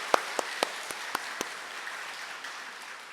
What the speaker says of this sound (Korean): 하나님께 우리 이 시간 영광의 박수를 한번